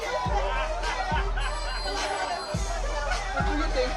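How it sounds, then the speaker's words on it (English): A large crowd lines a rainy street at the 2019 Atlanta Pride Parade, keeping up a steady murmur of chatter and cheering, with deep thumps recurring at irregular intervals underneath. "This crowd is unreal."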